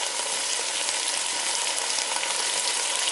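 Half a cup of rice poured into a pot of garbanzo bean soup, heard as a steady, loud, close sizzling hiss that holds evenly throughout without pauses or voices.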